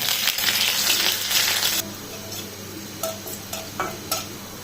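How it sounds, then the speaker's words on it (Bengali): Chopped garlic frying in soybean oil for beef chow mein, a steady sizzle that drops off partway, followed by a few light clinks of a utensil against the pan. "তো রসুন কুচিটা এখন একটু আমরা ভাজা ভাজা করে নিই।"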